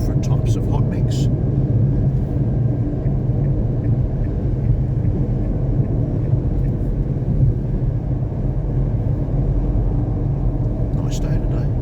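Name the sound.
tyre road noise inside a Renault Duster 4x4 while driving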